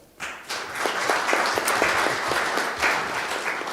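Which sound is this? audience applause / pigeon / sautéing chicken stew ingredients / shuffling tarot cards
audience applause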